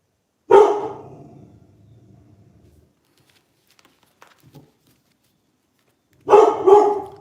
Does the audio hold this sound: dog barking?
yes